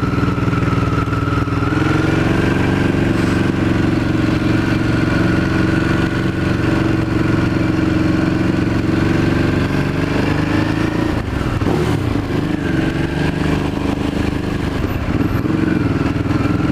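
A motorcycle engine drones loud and steady nearby during a city ride, holding a continuous mid-pitched note with a brief dip and rise partway through, no talking over it.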